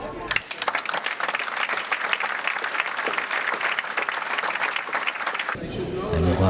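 Acclamation applause in the United Nations General Assembly hall electing the president of the 79th session, a loud sustained wave of clapping from a large audience that ends abruptly, followed by a voice speaking.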